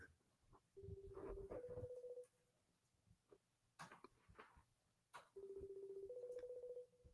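A phone call rings out unanswered, two bursts of steady electronic ringback tone separated by a pause, with scattered small room noises and a cough between them.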